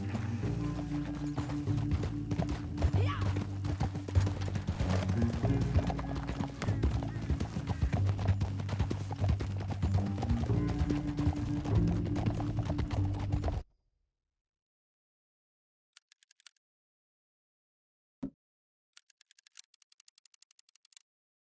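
A horse gallops in the video game Red Dead Redemption 2, its hooves drumming in a fast, steady clip-clop for about thirteen seconds before cutting to near silence with a few faint blips.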